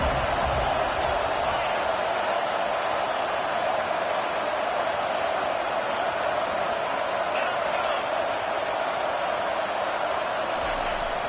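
Stadium crowd noise in the College Football 25 video game, a dense steady roar of a distant crowd holding constant throughout, with a commentator talking over it.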